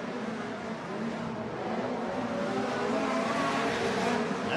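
Midget race cars roar around the Plymouth dirt track in a Badger Midget A-Main, a dense, steady wall of engine noise from several cars at once, loud and continuous with no pauses.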